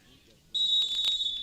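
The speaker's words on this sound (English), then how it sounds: "There's the whistle." A referee's whistle blows a single sustained shrill blast to start a soccer penalty kick, heard close under crowd and commentator noise.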